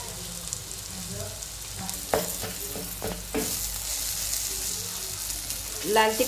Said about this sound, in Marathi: असं चांगलं मिक्स करून घेऊया बघा